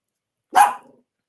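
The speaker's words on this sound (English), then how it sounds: "They just jumped up at the same time and started barking." Several dogs bark together in one short, loud burst, close by, with a growly edge that fades quickly into silence.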